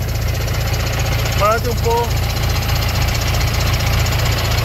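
A Fiat 65.12 livestock-transport truck idles steadily through its original exhaust, a continuous low, even engine rumble running the whole time while someone talks briefly over it.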